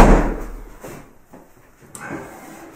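A door is pulled shut in a room, a solid thud of movement followed by a soft latch click, fairly close and loud with faint room noise around it.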